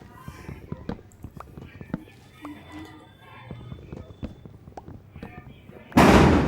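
Firecrackers set off outside: scattered sharp cracks and pops at irregular intervals, mostly faint and distant, ending in a sudden loud burst of noise.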